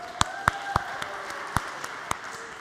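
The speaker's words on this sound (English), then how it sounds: "now maybe a round of applause for our 3 volunteers" At a computer-science lecture, a sparse scatter of individual claps greets three volunteers: a handful of sharp, separate hand claps spaced irregularly over a quiet room hum.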